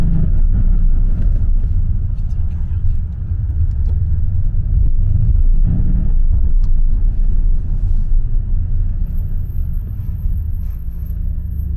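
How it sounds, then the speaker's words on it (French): A 510-horsepower V8 sports car rumbles with a deep, loud, steady low-pitched engine drone, close up and continuous, with slight swells in intensity and no talking. "Franchement, Abdel, c'est une sacrée voiture"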